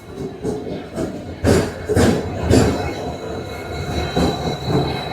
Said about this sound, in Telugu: మన ట్రైన్ అయితే ఇప్పుడే ప్లాట్ఫామ్ నెంబర్ టూకి వచ్చేసింది